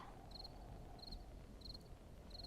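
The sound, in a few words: crickets chirping in the desert, video game 7 Days to Die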